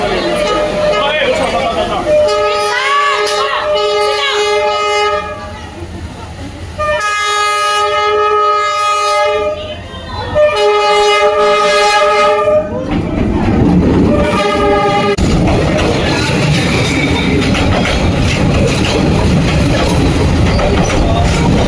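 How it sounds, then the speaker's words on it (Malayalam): A train approaching at a station in Vietnam, sounding several long, loud horn blasts in a row as its rumbling and rolling noise builds underneath, with people talking nearby. "ട്രെയിൻ വരുന്നുണ്ട്."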